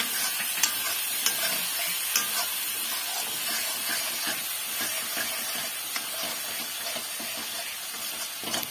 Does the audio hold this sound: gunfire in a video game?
no